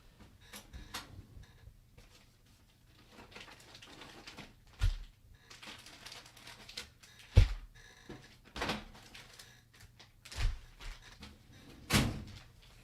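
A wooden drawer or cupboard is rummaged through, giving a scattered series of knocks, slides and thuds of varying loudness, several sharp bumps standing out over a quiet room with no talking.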